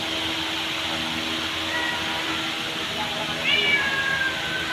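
A cat meows repeatedly while being fed, its cries rising clearly over a steady mechanical hum like a fan or vacuum, with the loudest meows near the end.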